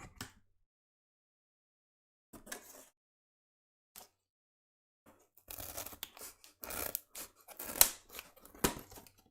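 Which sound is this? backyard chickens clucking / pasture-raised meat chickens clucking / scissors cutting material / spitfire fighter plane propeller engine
scissors cutting material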